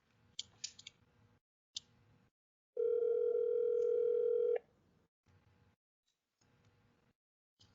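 A phone call rings through to voicemail: scattered faint clicks, then a steady electronic tone holding for about two seconds before quiet clicks return.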